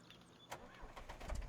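Tractor engine cranking and catching in the farming game Farmlands, a brief starter whir followed by a low engine rumble building near the end, quiet overall.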